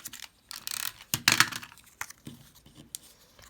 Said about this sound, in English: if you take a scissors and just snip it